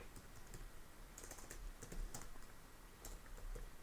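Fingers tap out quick, irregular bursts of keystrokes on a computer keyboard, close and fairly quiet over a steady background hiss, with short clusters and a few louder clacks late at night.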